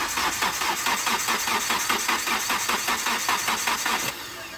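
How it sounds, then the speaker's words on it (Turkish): Car engine with a weak battery cranking repeatedly without catching, a steady rapid churning rhythm for about four seconds before it cuts off, fairly close and alone. "Gördüğünüz gibi marş almıyor arkadaşlar"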